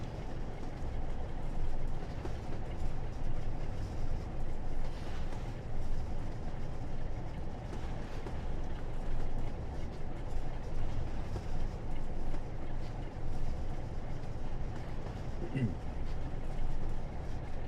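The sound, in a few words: train running in the video game Train Sim World 4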